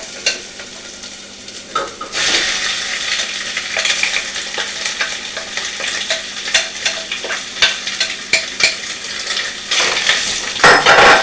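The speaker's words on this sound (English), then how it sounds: "Now we're going to cook this until the sausage is browned and cooked through." Sausage frying with caramelizing onions in a pan, a loud close sizzle broken by repeated scraping and clinking of the utensil as it is stirred, with no voices.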